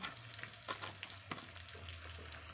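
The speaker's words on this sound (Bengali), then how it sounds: "টমেটো দিয়ে একটু নাড়াবো" Tomatoes stirred into meat curry in a pan over a wood fire, with steady sizzling and frying broken by scraping stir strokes, close and continuous with no talk.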